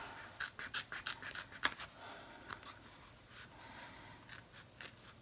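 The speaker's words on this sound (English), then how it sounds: "These scissors are really invaluable when you're appliquing" Scissors snipping through fabric to trim an applique piece for a Halloween pennant banner, a quick run of close, crisp cuts followed by a few sparser snips.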